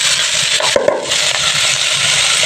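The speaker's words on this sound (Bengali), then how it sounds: "আমি চিংড়ি মাছ আর আলু খুব ভালো করে ফোড়নের সাথে ভেজে নেব।" Shrimp and potatoes frying in spiced oil with a steady, loud broadband sizzle throughout, broken by a few brief stirring scrapes near the middle.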